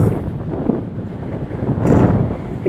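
Strong wind buffets the microphone outdoors, a continuous low roaring rumble that swells louder toward the end, with no talking.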